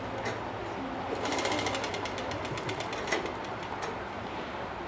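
A foot-powered treadle sewing machine runs in a rapid, even clatter of needle strokes that builds after the first second and continues steadily over a noisy room background.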